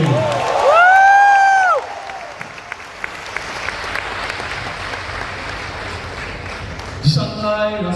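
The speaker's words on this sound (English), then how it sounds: "Can you have a big round of applause for Ashni?" A conference audience in Bangladesh claps and cheers for Ashneer Grover: a raised voice rings out briefly before sustained, loud applause takes over, slowly thinning, then a short burst of talk near the end.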